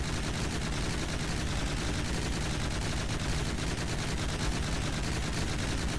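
A ship-mounted APS cannon in From the Depths fires at about 630 rounds per minute, making a dense, unbroken stream of rapid booming shots that stays loud and steady throughout.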